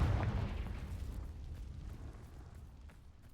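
A spell blast in Hogwarts Legacy sets off a deep explosive boom at the start, then a rumbling tail that fades slowly across a few seconds.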